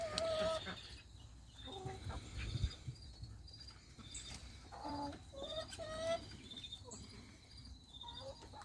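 Chickens, including black Australorps, clucking and calling in a farm coop during morning chores, several birds at close to mid distance with scattered clucks and short squawks over soft background rustle.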